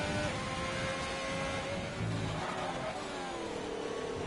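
Onboard an F3 race car at a Netherlands circuit, a mid-pitched engine drones steadily with shifting harmonics and a brief low rumble as the front wheels lock up under braking, loud and continuous throughout.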